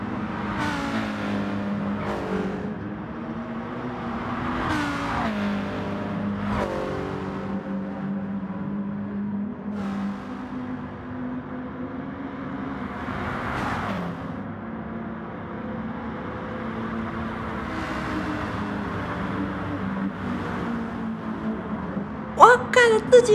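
Gr.4 race cars in Gran Turismo Sport at Yanagisawa International, engines droning and shifting as they battle for position, with a sharp burst of tire or impact noise near the end.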